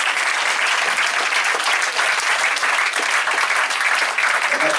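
A church congregation at a thanksgiving service in Divo applauds Jesus Christ, with steady, dense clapping from many hands filling the room, close and loud throughout with no gaps.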